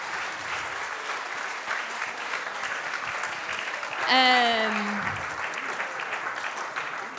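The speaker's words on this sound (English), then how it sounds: "Maybe we can just have one big round of applause for everyone we've heard so far." A congress audience in Vienna gives a round of applause for the speakers. The clapping is faint and distant, and a sharp sweeping tone cuts through briefly in the middle.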